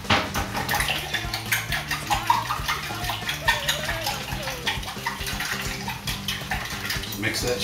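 Warm water splashes steadily into a bowl holding a tablespoon of sugar and two teaspoons of yeast, a close, continuous pouring rush over faint background music.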